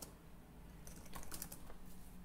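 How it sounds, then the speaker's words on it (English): A computer keyboard is used to type a command: a short, faint run of soft key clicks under a low background hiss. "We'll type sudo apt install apache"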